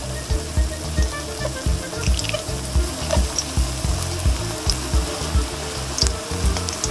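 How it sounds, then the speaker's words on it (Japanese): Rolled potato balls deep-fry in oil in a wok over medium heat, giving a steady, close crackling sizzle with frequent small pops and bubbling throughout, with no voices. "中火で両面しっかりと揚げます"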